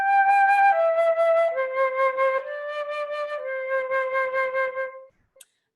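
A flute plays a slow descending phrase of several sustained notes with a clear wavering vibrato, each tone pulsing gently. It ends in silence, with a small click at the very end.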